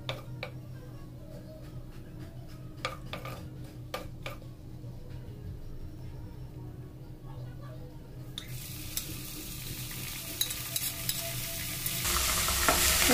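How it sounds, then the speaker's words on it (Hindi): Chopped onion and green chili paste frying in oil over a high flame, a continuous close sizzle with occasional stirring clicks and scrapes that grows louder and brighter toward the end. "और इसको हम 6-7 मिनट पकाएंगे एकदम हाई फ्लेम में, ताकि प्याज हमारी एकदम गोल्डन ब्राउन हो जाए"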